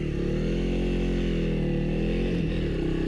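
Honda CRF300L 2025 dual-sport motorcycle with the silencer removed from an otherwise stock exhaust, accelerating steadily with a raspy single-cylinder drone that rises in pitch through the gears, heard continuously and fairly close, no voices.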